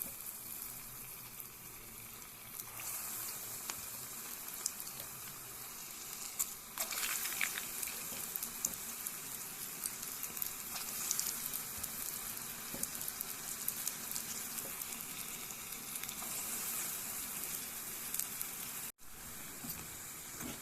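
Dosa batter dropped into hot oil in a small pan to fry punugulu, giving a continuous bubbling sizzle that swells as more batter goes in, close and steady with no talking.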